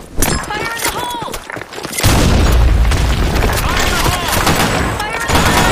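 A deep boom of a grenade going off in an online shooter game, loud and close, followed by a rumbling roar and crackling gunfire, with in-game voices calling out over it.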